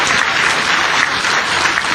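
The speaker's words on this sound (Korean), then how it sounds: "우리 박수로 환영을 해줍시다" Church congregation clapping to welcome a guest during a sermon, a dense, even burst of applause held at steady loudness for the whole stretch.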